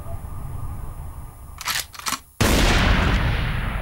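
Gunfire in the 50 Cent PlayStation 2 video game, a short cluster of sharp cracks followed by a sudden loud, sustained burst of noisy blasts that fills the rest of the moment.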